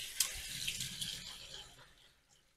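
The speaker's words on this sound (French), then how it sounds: "je vais égoutter mes petits pois. Je vais même carrément les mettre dans la passoire et les essorer un peu." Cooking liquid from peas drains through a colander into a sink, a brief close rush of pouring water and splashing that tapers off over a couple of seconds.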